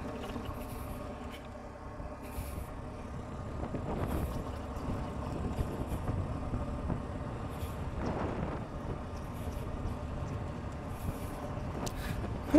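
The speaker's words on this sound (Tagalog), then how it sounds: "Ang lakas ng hangin. Nalilipad ako." Strong wind buffets the microphone on a mountain view deck at Mount Samat in Bataan, a steady loud rumbling roar with gusty swells throughout and no talking.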